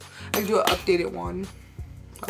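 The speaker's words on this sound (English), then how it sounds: "that was the sound of my purse. I just smacked my purse." A handbag is smacked, its contents clinking and rattling in a couple of quick jangly hits, with someone talking over and around them.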